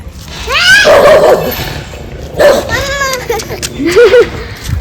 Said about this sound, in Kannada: ಈ ನಾಯಿ ಅಂತ ಯಾವಾಗೂ ಬೊಗಳದೇ ಕೆಲಸ